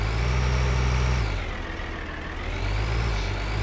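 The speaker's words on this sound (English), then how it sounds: "using the ATV down in this little like valley" In Farming Simulator 2013, an ATV engine drones steadily at a low, rumbling idle, dipping briefly in pitch midway before settling back, loud and continuous with no voices.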